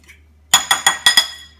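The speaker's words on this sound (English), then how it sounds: "I'm going to mix this up a little bit more" A fork or whisk clinks against a glass or ceramic bowl five times in a quick, uneven rhythm while French toast egg mixture is beaten, close and fairly loud with no talking.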